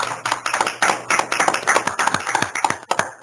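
Webinar participants clap together, a dense, uneven patter of many separate hand claps that runs steadily throughout, fairly close and with no talking over it.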